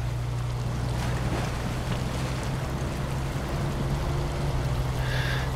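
A pickup truck fords a flowing stream in the SnowRunner video game, giving a continuous low engine rumble under a broad steady rush of water and splashing throughout.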